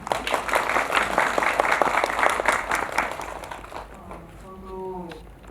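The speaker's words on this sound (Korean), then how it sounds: "박수 부탁드릴게요" Theater audience applauding after a film screening and talk at a COEX Megabox cinema. Dense clapping rises quickly and holds strong, then fades out as a voice starts speaking over the end.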